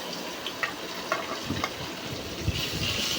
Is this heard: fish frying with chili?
yes